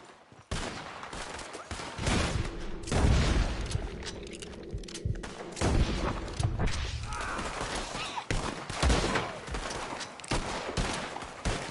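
Red Dead Redemption 2 gunfight with rapid bursts of rifle and pistol shots, loud and close, crackling over several seconds with brief lulls, under background game noise.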